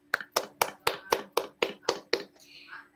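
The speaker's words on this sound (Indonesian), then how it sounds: "Kita berikan aplaus dulu untuk Debbie" A classroom of students claps in unison for a classmate: about nine sharp, evenly spaced claps close by, then a brief murmur.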